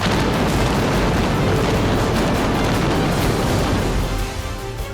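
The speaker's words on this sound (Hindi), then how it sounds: "कुछ धमाके हुए और पल भर में 30 मंजिला ये इमारत धूल में मिल गई" Controlled demolition blasts bring down a 30-storey, 120-metre twin tower in Uttar Pradesh, India, heard as a continuous, loud, rumbling roar of explosions and collapse that stays heavy throughout before easing slightly at the end.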